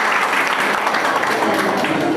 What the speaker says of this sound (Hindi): जोर से बजाओ ना ताली।